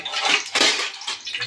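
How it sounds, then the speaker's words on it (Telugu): Pieces of fish dropped into hot oil in a pan for shallow frying, giving a bright, hissing sizzle that surges in bursts, close and fairly loud. "ఇలా చేప ముక్కలు వేసుకుంటున్నాను."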